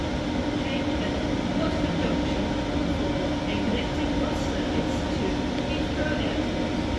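A 12-carriage train at Leighton Buzzard station gives a steady, loud rumble of rolling wagons that lasts throughout, with a voice heard over it.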